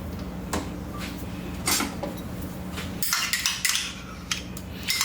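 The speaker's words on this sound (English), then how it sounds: "I'm just going to scrape that down in there just to make sure I get all of it" Scraping a utensil around a bowl to gather mayonnaise and rice vinegar for a light chadon beni garlic sauce: several quick, close clinks and scrapes, intermittent and then busier toward the end, with no talk.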